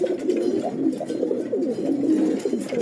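A foreign breeding pair of pigeons coos in low, throaty, rolling calls that repeat steadily and close by, with no speech.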